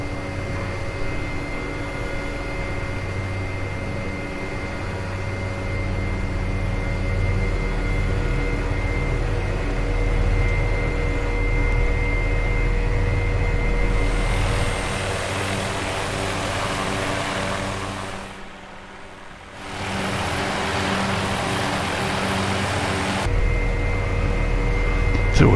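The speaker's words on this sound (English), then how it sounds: "So we're in the VAP Air Milvis 530F helicopter" A steady, droning engine hum with rotor-like throb from a Milviz 530F helicopter in a flight simulator fills the clip, continuous and fairly loud, dipping briefly near the end before resuming.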